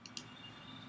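A computer mouse gives two quick, quiet clicks close together over faint room noise.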